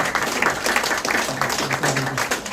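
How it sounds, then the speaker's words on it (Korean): Congregation at a Korean Methodist thanksgiving service and book launch applauds the organizers, a steady, moderately loud round of clapping from many hands filling the hall, with a faint voice murmuring beneath. "우리 한번 같이 박수 한번 해주셨으면 좋겠습니다."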